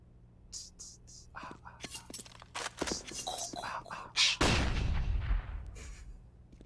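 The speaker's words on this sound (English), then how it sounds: "Smoke grenades up and over." Smoke grenades thrown during a Counter-Strike match on the Mirage map: scattered soft clicks and thuds, then a sudden loud hissing burst that slowly fades, with faint voices in the background.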